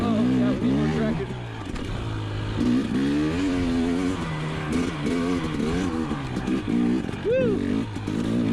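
A KTM enduro motorcycle engine revs and surges on a dirt trail, its loud, rising and falling drone continuous throughout, with a person talking and exclaiming over it.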